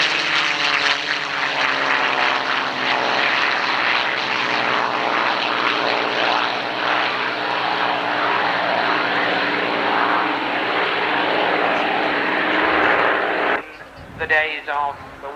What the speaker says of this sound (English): There, 6 Rolls-Royce Merlin acting almost as one.